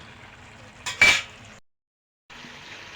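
A lid set down over a pot of white chicken korma, a brief close metallic clank over a low cooking hiss, followed by a sudden gap of silence before the hiss returns.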